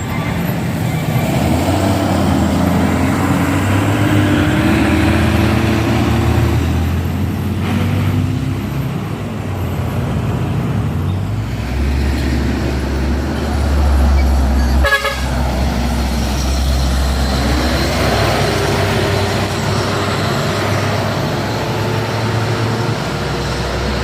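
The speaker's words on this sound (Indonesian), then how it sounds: "Terus ada truk trailer menyalip dari kanan" Trucks and a trailer truck rumbling past on a hillside road at dusk, the trailer overtaking from the right, loud diesel drones rising and falling with several horn toots cutting in, close and continuous.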